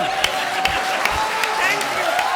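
Studio audience applause on a Hindi TV comedy show, a steady wash of clapping under a host's voice, with a few sharper claps rising out of the crowd noise.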